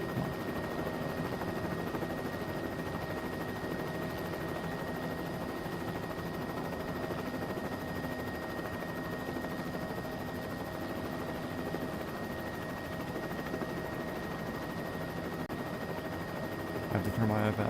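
A helicopter in a flight video game drones steadily with a continuous rotor and engine hum, with a faint voice in the background.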